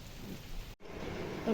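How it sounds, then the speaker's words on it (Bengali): Rain falling outside a house on a dark, cloudy day, a soft steady patter heard faintly from indoors with a brief dropout midway. "বাইরেটায় বৃষ্টি হচ্ছে"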